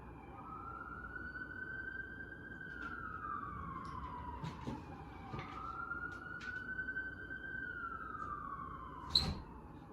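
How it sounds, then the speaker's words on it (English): A wailing emergency siren rises and falls in long sweeps, moderately distant, over a steady low traffic rumble, with a few faint clicks and a sharp knock near the end. "Again, very sorry about the sirens."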